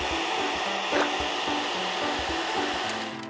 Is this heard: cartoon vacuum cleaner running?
yes